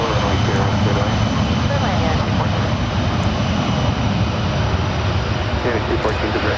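CRJ regional jets taking off side by side at San Francisco International Airport make a continuous, loud jet-engine roar with a broad rushing hum that stays steady throughout the short stretch.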